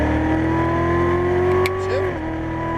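A Chevrolet Corvette Z06 Stingray accelerating out of a corner on a race track, its engine note a steady loud drone rising slightly in pitch before a brief dip, with a voice talking over it.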